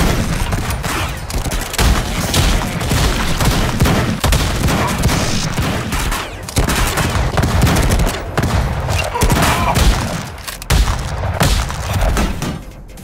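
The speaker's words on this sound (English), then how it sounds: "That's a machine gun." Heavy machine-gun fire in Madness: Project Nexus 2, dense sustained bursts with booms and impacts, loud and close, running almost continuously with only brief gaps.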